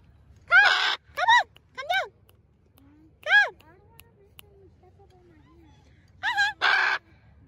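Pet macaw parrots give loud, harsh squawking calls in short bursts, a quick series of three, then one alone, then a final pair, with quiet pauses between.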